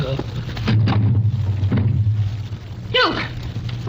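A gunshot sound effect in an old radio mystery drama, a loud, heavy blast with a booming tail set among overlapping dramatic voices and background sound, recorded with dated broadcast quality.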